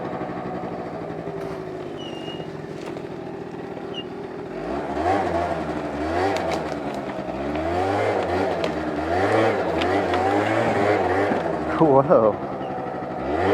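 A Prebug Zuma scooter engine revving hard during wheelies, its pitch rising and falling in repeated surges close by, with a rider's voice briefly exclaiming over the motor.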